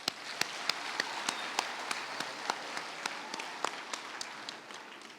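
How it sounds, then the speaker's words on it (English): Sparse, distinct hand claps ring out at a Girl Guide pledge ceremony in Kenya, sharp single strikes spaced roughly every half second over a quiet room murmur. "Another hand clap."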